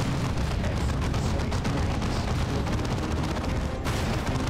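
Grenade explosions and battlefield fire in Warhammer 40K: Dawn of War 2 Chaos Rising, a dense, loud barrage of booms and crackling gunfire running continuously with rapid rhythmic bursts.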